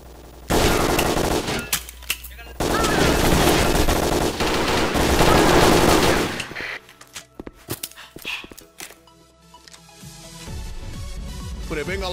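Rapid automatic gunfire in a 5-versus-5 bomb-mode shooter video game, with loud sustained bursts for several seconds, then sparser shots and clatter as players' voices come through team chat.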